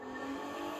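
A car drives past in the racing game The Crew 2, a brief steady engine hum at a constant loud level with no speech over it.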